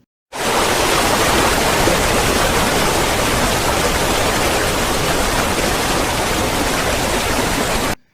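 A waterfall roars in a dense, constant wash of falling water that starts abruptly, holds loud and even for several seconds, then cuts off, with no voices.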